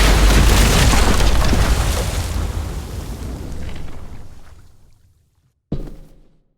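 Bomb explosion in The Walking Dead video game, a loud deep boom that rolls into a long rumbling decay fading to near silence, followed by a sharp sudden hit and short tail.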